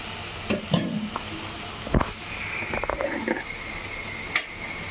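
Green beans stir-fry in a pan, being mixed: a few scraping stirs and light clinks over a soft background sizzle, with no voices.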